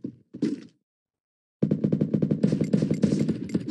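Free Fire gunfire: two short bursts, a second of silence, then a long, loud automatic volley of rapid evenly spaced shots, with no talking.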